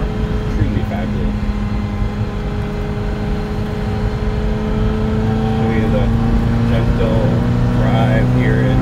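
A 1989 Ferrari Mondial T Cabriolet cruises in fifth gear near Redwood City, California, its engine holding a smooth, steady drone with the window partly up, loud and even with no voices.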